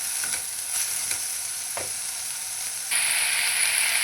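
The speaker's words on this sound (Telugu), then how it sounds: "ఈ విధంగా అప్పుడప్పుడు కలుపుతూ ఉండాలి" Tomato chutney with mint cooking in a pan, a soft continuous sizzle with a few light scrapes of stirring, the frying hiss growing noticeably louder and brighter toward the end; no voices.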